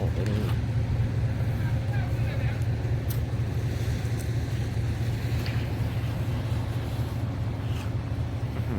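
A Kubota JO8 combine harvester engine drones in a constant low rumble with wind buffeting the microphone, steady and fairly loud throughout.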